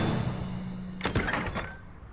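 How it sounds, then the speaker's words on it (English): A door creaks and thunks open inside the fantasy management game Naheulbeuk's Dungeon Master, a short burst of scraping and knocking over steady background music. "Oh, we opened the door again"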